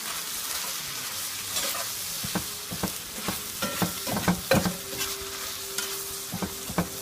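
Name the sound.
steak, onions and peppers frying with camp mix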